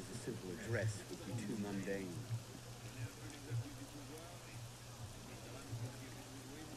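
Rain patters steadily in Assassin's Creed Unity, a low watery hiss running under someone talking almost throughout, with some louder low rumbles.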